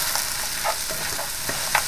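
Onions frying in a pan during simple home cooking, a steady sizzle with a few soft stirring scrapes and clicks.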